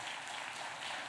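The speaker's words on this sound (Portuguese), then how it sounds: "Uma salva de palmas à palavra de Deus." Applause from a church congregation during a Pentecost vigil, a dense steady patter of many hands clapping together, fairly soft and even throughout with no voices over it.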